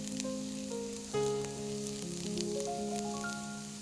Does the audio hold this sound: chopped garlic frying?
yes